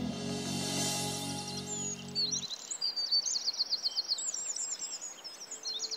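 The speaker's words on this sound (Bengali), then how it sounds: "ডেকে ওঠে ভোরের পাখি" Dawn birdsong as a story sound effect: a low droning tone fades out early, then several birds chirp and trill in quick, bright repeated phrases, moderately faint and alone.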